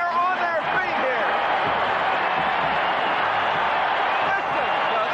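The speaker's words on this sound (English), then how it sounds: "Listen to this crowd in the kingdom." Football stadium crowd in the Kingdome roaring loudly and continuously after a big run play, a dense sustained cheer with whoops, heard alone at close, even volume.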